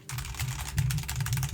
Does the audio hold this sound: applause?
no